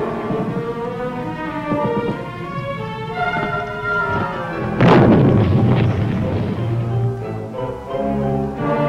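Vietnam War combat with heavy gunfire and explosions: loud rolling bursts and booms, then one big blast midway followed by continued rumbling fire.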